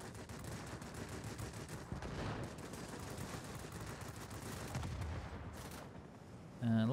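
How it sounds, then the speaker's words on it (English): Rear gunner machine gun fire in a Wargaming game rattles on continuously at moderate loudness as dense, steady gunfire through the whole stretch, with a sharper burst near the end. "lots of rear gunner fire coming up"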